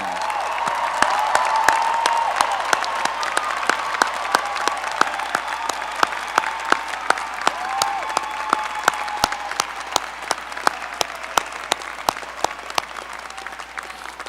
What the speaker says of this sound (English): I now ask those first-gen students in the graduating class to please stand so we can recognize and applaud this great accomplishment.